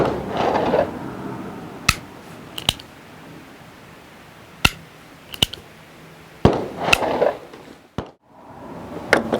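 Several sharp gunshots from a Smith and Wesson .32 rimfire revolver firing .32 rimfire short rounds at a steel plate, scattered irregularly with gaps between them, loud and close over a quiet background.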